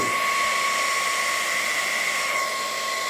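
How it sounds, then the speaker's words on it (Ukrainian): A continuous high-pitched blowing whine from a heat gun at maximum temperature, used for plastic bumper welding; steady tone, close and constant, with no voices. "Якщо феном дати на максимальну температуру"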